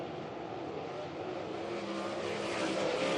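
A pack of 360 sprint cars racing around a dirt oval, a sustained loud roar of many engines rising slightly as the cars come down the back straightaway, with no talk.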